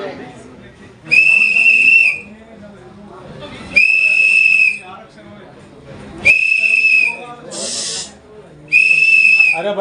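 Sharp shrill whistle blasts at a press conference, four loud bursts about two to three seconds apart, each lasting around a second, with room murmur and background chatter between them.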